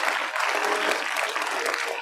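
Parents at a pre-primary school convocation ceremony keep up steady applause, a dense continuous patter of many hands clapping at close range with little break.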